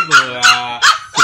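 Wet puppies in a kennel give four sharp, high-pitched yelps and whimpers in quick succession, loud and close, with nothing else in between.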